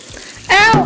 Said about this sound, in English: The next step is to wash your cucumber right here.